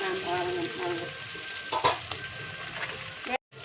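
Onions and green chillies sauté in a pan with a steady, close sizzle, broken by a few scraping stirs and ending in a brief cut to silence.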